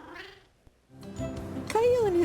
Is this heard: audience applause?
no